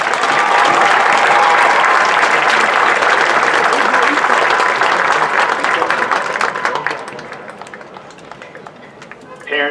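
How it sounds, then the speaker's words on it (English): A large audience at a high school graduation ceremony claps in sustained, loud applause that thins out and fades toward the end. "Let's give them all one more round of applause."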